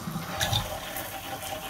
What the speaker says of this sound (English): as you can see, the water is running